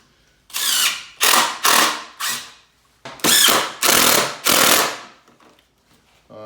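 Power drill driving screws into a homemade mount for a Honda GX200 clone engine: seven loud, close whirring bursts in two groups with short pauses between, no talk.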